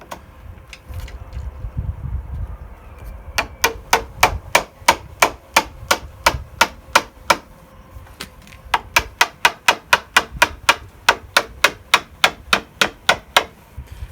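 A chisel is tapped along the edge of a square-edged kitchen worktop to peel off the edging, giving sharp, evenly spaced knocks in two quick runs with a short pause between, close and clear.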